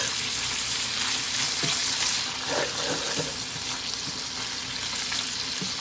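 Two tablespoons of butter melting in a pan for a sausage gravy roux, giving a steady close frying sizzle with soft crackles and pops throughout.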